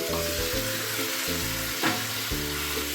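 Mutton pieces sizzle and fry in a pan with onions and garam masala during slow kosha cooking, a steady crackle heard under continuous background music.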